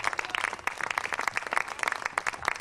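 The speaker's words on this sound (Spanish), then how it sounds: "Grande el aplauso para el Señor" Applause from a church congregation during worship, a dense burst of many hands clapping together, fairly loud and sustained across the whole stretch.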